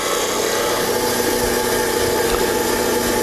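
A Harbor Freight spindle gouge is ground on a running grinder, giving a continuous dense whirring, rasping noise that stays close and loud throughout with no pauses.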